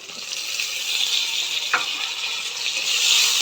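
Garlic and slit green chillies fry in a pan with a steady, bright sizzle that holds moderately loud throughout, with one brief clink partway through and no talking.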